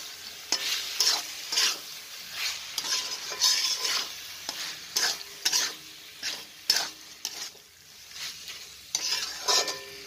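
Macaroni being stirred and fried in a pan with capsicum, onion, chopped garlic and ginger-garlic paste: repeated close scraping strokes over a steady sizzle, no voices.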